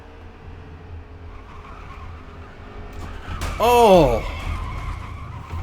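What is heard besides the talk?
truck crash with tires skidding in a racing video game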